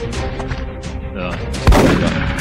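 A shotgun blast in the video game X-COM sounds as one loud, sharp boom partway through, rising over ongoing game music and ambient sound.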